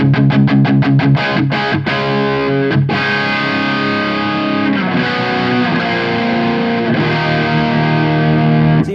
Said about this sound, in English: So even though it's a thick wall of distortion, all the notes are kind of singing on through.